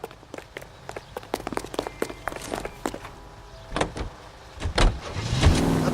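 A character in L.A. Noire hurries across pavement with quick footsteps, a car door opens and thuds shut, then an engine starts and revs louder as the car pulls away.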